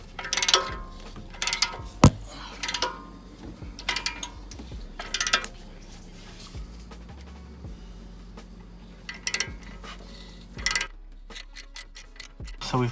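Socket ratchet working a lower control arm bolt loose on a BMW F30 335i: bursts of close, quick clicking alternate with quieter pauses, each run of ratcheting lasting a second or so, over a low steady hum.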